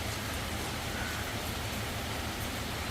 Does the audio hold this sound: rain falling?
yes